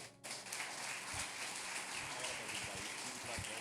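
Church congregation applauding during a Wednesday worship service, a dense, steady wash of clapping that fills the room for several seconds, with voices faintly mixed in.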